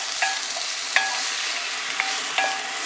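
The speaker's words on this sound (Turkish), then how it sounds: "Bir tatlı kaşığı biber salçası ekliyorum. Ve salçayla beraber şöyle biraz kavuracağım." Potatoes, eggplant and other vegetables sautéing with pepper paste in a pan, a bright continuous sizzle broken by several sharp utensil scrapes and taps at irregular intervals, close up with no talking.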